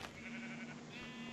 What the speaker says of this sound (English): Like this sheep farm.